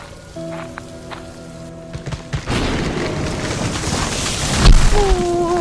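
Rain during a storm builds from a quiet start into a loud, continuous roar of drops pelting surfaces, with a deep booming thump near the end.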